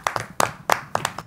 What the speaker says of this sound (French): Applaudissez pour mes amis.